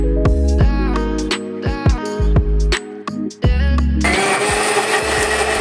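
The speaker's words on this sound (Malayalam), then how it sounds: "2ഉം കൂടെ മിക്സിയിലിട്ട് നന്നായിട്ടൊന്ന് പേസ്റ്റ് ചെയ്തെടുക്കണം" Tuneful music gives way to a loud, steady mixer grinder whirring at full speed as it blends tomatoes and onions to a paste, the grinding noise continuing to the end.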